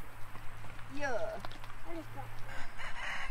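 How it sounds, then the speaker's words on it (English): Chickens cluck and a rooster-like call rises briefly in the middle, set against a steady low hum and faint outdoor background. "Eleanor is showing Aunt Kelsey some of the chickens that are over along the fence line."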